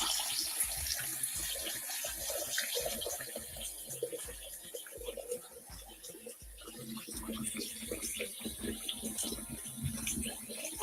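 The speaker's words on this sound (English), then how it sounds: "Now let's fill this up." Tap water runs steadily into a clean kitchen sink as it fills, a continuous broadband rush close by that carries on alone across the whole stretch.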